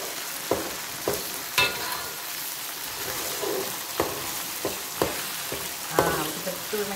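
Egg frying in a hot pan for mee goreng while a utensil stirs it, giving a steady crackling sizzle with a series of sharp scraping clacks spread through the clip.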